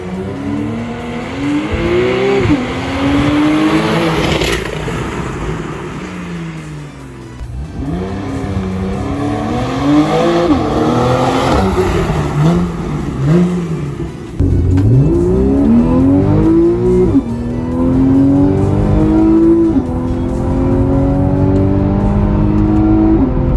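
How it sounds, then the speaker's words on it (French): A Porsche 991 Carrera 4S with a PDK gearbox and aero kit accelerates hard, its exhaust and engine sweeping up through the revs with rising and falling pitch across several gear changes, loud and close throughout with no talk. "les échappements offrent une sonorité exceptionnelle"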